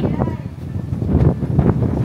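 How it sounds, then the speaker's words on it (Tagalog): Strong wind blowing outdoors, a steady low rumbling roar buffeting the microphone in gusts throughout, with a voice speaking over it. "Oh, grabe ang hangin ba?"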